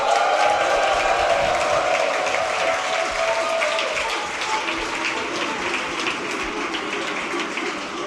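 A large crowd at a Warcraft 3 esports event, the Being Esports World Series, roars with sustained applause and cheering. The loud, continuous clapping and shouting fill the hall from start to finish.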